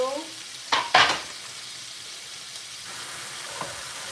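Green onions tossed into a hot pan of shrimp fried rice, two quick loud sizzling bursts near the start that fade into a faint steady hiss with an occasional soft clink.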